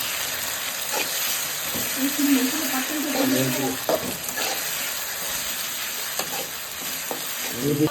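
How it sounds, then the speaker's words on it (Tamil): Ginger garlic paste sautés in a pan for a mushroom pepper fry, giving a steady close sizzle with a faint steamy hiss and occasional scrapes and knocks of stirring. "இஞ்சி பூண்டு பேஸ்ட் அது ஒன்று போதுமா? போட்டு கொஞ்சம் வதக்கணும்."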